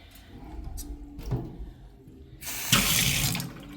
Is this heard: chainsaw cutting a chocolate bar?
no